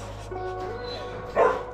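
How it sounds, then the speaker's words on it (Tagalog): Dogs bark and yip nearby in the Philippines beside a Bajaj CT100 motorcycle, a short burst of barks at the end over low background hum. "ayan na, mga aso"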